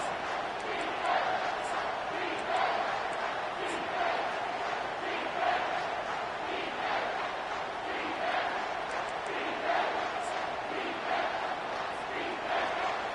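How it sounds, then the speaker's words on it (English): Stadium crowd at an NCAA football game, a steady, dense roar of cheering and chanting with rhythmic surges, heard without a clear single voice on top. "This crowd knows they have to bring it in big moments"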